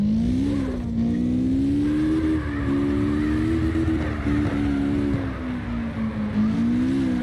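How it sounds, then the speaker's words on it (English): A car in the CarX Drift video game slides under a brief handbrake pull, its engine holding a steady, loud, wavering drone of revs that rises and dips with the throttle throughout, with no talk. "Handbrake a little bit of handbrake right here to get the slide"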